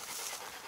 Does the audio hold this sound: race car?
no